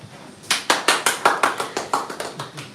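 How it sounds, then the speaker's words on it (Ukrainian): Small group applauding at an adult education centre event in Nikopol, honouring a student's project; a dozen or so distinct claps in a steady rhythm, fairly close and clear, with no talk. "Аплодуємо."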